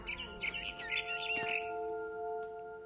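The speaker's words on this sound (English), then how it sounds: "Then I heard chirping outside my window. It was a barn swallow going back to her nest." Barn swallow chirping outside a window in the video game What Remains of Edith Finch, several quick bright chirps at the start over a sustained ringing musical tone.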